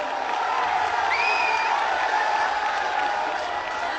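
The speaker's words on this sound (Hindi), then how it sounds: "एक बार जोरदार तालियों के साथ" Loud, steady applause and crowd noise fill a political gathering as people welcome Sudesh Kumar Mahto, a dense, continuous clapping wash with a brief whoop over it, without pause throughout.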